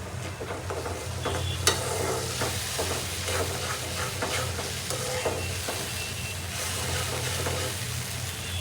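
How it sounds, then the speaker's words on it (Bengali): Spice masala with chili and coriander powder is sautéed in a pan for a fish curry, producing a continuous close sizzle with repeated spatula scrapes and stirring clatter, and no voices. "তো এখন ভালো করে মশলাটা কষাবো।"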